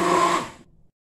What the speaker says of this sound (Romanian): O voi amesteca cu blenderul.